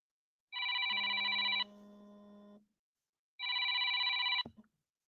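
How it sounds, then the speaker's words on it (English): A telephone bell rings in two long electronic bursts separated by a pause, loud and close, with a lower tone trailing after the first burst and the second cut off abruptly as the call is answered. "My phone was ringing, so hopefully I'm back."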